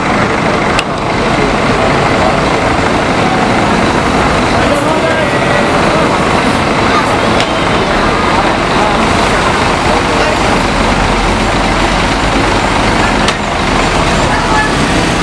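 Buses pull into the PNP Madura bus stop amid dense, continuous roadway noise, with heavy engine rumble and traffic filling the scene, loud and close, alongside talking voices.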